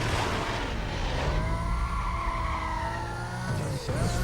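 A green Lamborghini with a V10 engine in Need for Speed: Most Wanted (2005, PS2) during a police pursuit, its engine revving loudly as the tires squeal in a long skid, with no talk.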